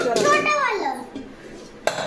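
Children handle metal kitchen pots and pans, which clatter and clink, with a voice and an adult talking over the clanking.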